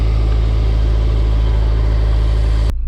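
A car engine idling steadily after an exhaust leak was fixed with a new gasket, a loud, close, even low rumble that cuts off abruptly near the end.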